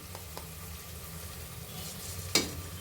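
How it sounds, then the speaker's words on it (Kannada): Vangibath spice powder goes into a sizzling pan of frying mix and is stirred in, a close, even sizzle with light scraping strokes and one brief louder clink near the end. "ಈಗ ವಾಂಗೆ ಬಾತ್ ಪೌಡ್ರನ್ನ ಹಾಕ್ಕೊಳ್ತಾ ಇದ್ದೀನಿ"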